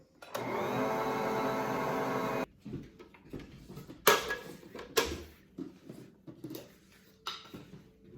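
An electric mixer beating coconut cake batter whirs steadily for about two seconds, then stops, followed by scattered clanks and knocks of a bowl and utensils.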